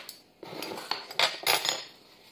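Hand mixing of siomai and wonton wrapper dough after a teaspoon of salt goes in, heard as a few close clinks and scrapes of utensils against a bowl, short and alone.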